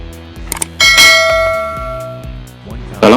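A notification bell effect rings out with bright metallic dings, first a quick pair of small clicks, then a loud sustained chime that rings and fades, and a final sharp ding at the end.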